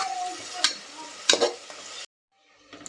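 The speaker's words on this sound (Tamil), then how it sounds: "நறுக்கி வச்சுருந்த பெரிய வெங்காயத்தை சேர்த்து அடுப்பை ஹை ஃப்ளேமில் வச்சுட்டு ஒரு மூணு நிமிஷம் இது வந்து நல்லா வதக்கிக்கலாம்" Onions sizzle quietly over a high flame in a pan while a spoon scrapes and stirs them a few times, then a short silence and a final soft scrape.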